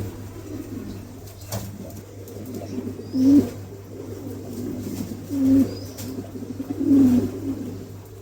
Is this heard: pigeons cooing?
yes